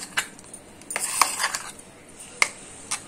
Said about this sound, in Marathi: गॅसवर भांडं ठेवलंय.